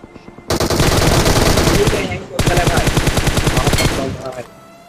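Two long bursts of rapid automatic gunfire in a video game, loud and close, separated by a brief pause, with the shots trailing off at the end.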